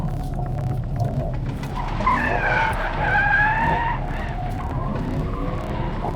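A Mercedes-AMG GT 63 S E-Performance in rear-wheel drift mode slides with its tires squealing, a sustained, wavering screech over engine roar that rises in the middle and carries on to the end.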